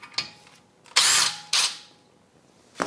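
Power driver with a T30 Torx bit backing out the rotor screw on an Audi Q3, a few short loud whirring bursts separated by brief pauses.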